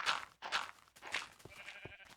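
Several short sheep bleats from Minecraft Infdev, close and fairly quiet, coming in quick separate calls.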